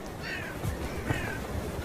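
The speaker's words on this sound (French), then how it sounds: "Les corneilles et les corbeaux ne représentent pas de véritable concurrence." Crows and ravens give a couple of harsh caws, fairly faint and set back in a windy outdoor scene around a golden eagle, with low gusty rumble beneath.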